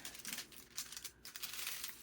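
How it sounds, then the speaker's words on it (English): A protective plastic covering is peeled back from a picture, giving close, soft crinkling in several short bursts. "I'm going to pull this protective covering back"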